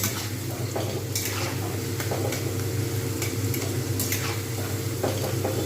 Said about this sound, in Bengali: এপিট ওপিট করে করে উল্টে উল্টে দেবো যেন পুড়ে না যায় অথচ ক্রিস্পি ভাজা হবে